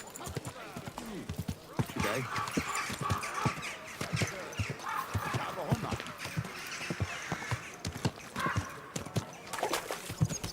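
Horse hooves trotting in the video game Kingdom Come: Deliverance II, a quick, even clip-clop running throughout, close and clear, with a brief spoken word over it.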